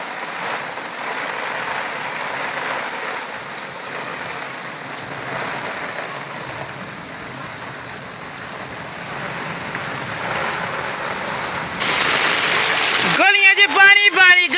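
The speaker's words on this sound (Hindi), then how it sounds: "ए तक बारिश का जोर देखो।" Heavy monsoon rain pours onto streets and surfaces in a dense, constant roar, swelling slightly near the end. A voice speaks over the downpour.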